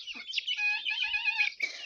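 Chickens cluck and chatter up close in a farmyard shared with guinea fowl chicks, pigeons and ducks; a few short nasal calls run together in quick bursts, clear and fairly loud with no talk.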